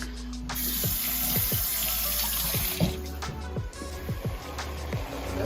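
A kitchen tap runs steadily while something is rinsed off during the making of Indian chicken curry, with water hissing continuously under a series of clattering knocks and handling sounds near the sink.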